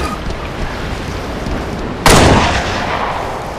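Sniper rifle fire in Halo Reach: one loud, sharp report about two seconds in, decaying into a rumbling tail over steady low game ambience.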